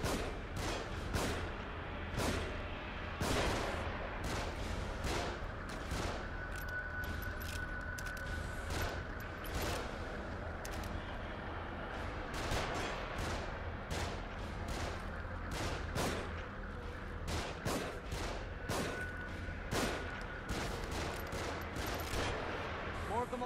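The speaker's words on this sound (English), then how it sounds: "Get to cover. They're shooting from above." Sustained gunfire raining down from above in The Evil Within, a long barrage of repeated sharp shots and bursts at a fairly even pace over constant background rumble and clatter.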